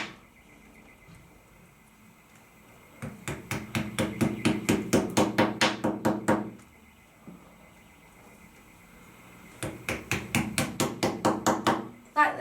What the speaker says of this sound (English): Now place your wall plugs in the drilled holes and tap with the end of your screwdriver.